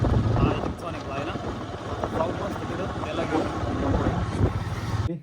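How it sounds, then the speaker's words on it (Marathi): A tractor engine rumbles steadily at a low pitch while people talk over it. "आता ट्रॅक्टर लावून दिला आहे आणि गोर पाहून आम्ही निघालो आता"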